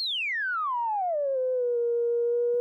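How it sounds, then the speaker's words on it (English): Moog Matriarch synth filter in double low pass mode with resonance set high, sweeping down as a loud, steady whistling resonant tone that glides from high to low and then holds level, alone with no talk. "we've got the resonance up high on both sides so we can hear the cutoff and just sweep around a little bit"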